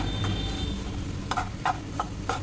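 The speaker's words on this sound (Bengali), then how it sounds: "এবার এটাকে ভালো করে নাড়াচাড়া করে নামিয়ে নেবো" Dal fry with kasuri methi being stirred in a pan, a low steady sizzle with several sharp spoon scrapes and clinks against the metal in the second half.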